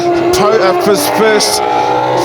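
A drift car at a D1NZ drift event in Taupo, its engine revving up and down in sweeping surges with possible tyre noise, heard under a commentator talking throughout.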